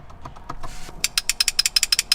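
Keys Motorsports magnetic paddle shifters with aluminum bodies, clicked repeatedly up close: a run of about ten sharp, crisp clicks in quick succession after some softer handling noises, with no talk.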